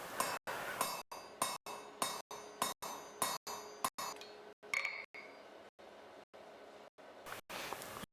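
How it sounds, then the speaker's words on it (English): Hammer blows driving a punch through a hot steel hinge plate for hollow bit blacksmith tongs, a steady series of sharp, ringing metallic strikes roughly twice per second, close and loud, with clinking tones. "I'll then punch one side of the hinge plate and turn over"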